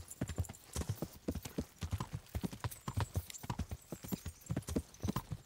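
Horse hooves clip-clop in a brisk, even rhythm while riding in the medieval game Kingdom Come: Deliverance, close and distinct with no talking over them.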